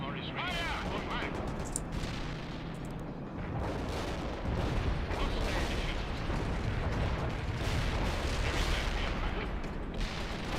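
A Leopard 2 tank fires its main gun in the World in Conflict battlefield, booming blasts and gunfire rumbling under dense combat noise and radio voices.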